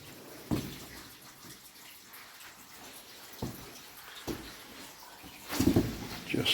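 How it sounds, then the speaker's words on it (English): Water running down stone stairs and splashing steadily in an echoing underground tunnel, with a few louder splashes and knocks, fairly close, no talking. "Just listen to that water coming down the stairs."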